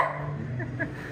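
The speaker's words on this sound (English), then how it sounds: "there's a little doggy," A small dog barks a few times in a narrow restaurant alley in downtown Porto, Portugal, short yaps over steady low street and crowd background.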